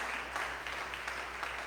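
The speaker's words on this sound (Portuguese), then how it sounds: "Dá uma salva de palmas para Jesus." A church congregation applauds for a short burst, a steady dense wash of clapping at moderate distance that fills the whole moment without a break.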